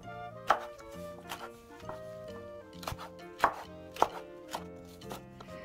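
Fresh seaweed (miyeok) is cut into bite-size pieces with a knife on a board, with irregular thumping chops spaced under a second apart, fairly close and clear.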